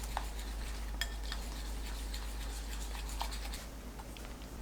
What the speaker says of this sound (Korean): 치킨 튀김가루 1컵에 물 1컵 넣고 반죽을 만듭니다.